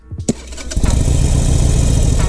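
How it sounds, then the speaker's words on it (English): A motorcycle in neutral, clutch held, fires up on its electric starter: a few brief cranking bursts, then the engine catches and settles into a steady, close, loud idle. "Now we got the motorcycle running."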